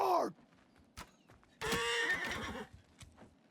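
A horse hit by an arrow in the medieval battle game Mount & Blade II: Bannerlord gives a loud descending whinny, then after a brief pause a second long shrill neigh, with a faint knock in between.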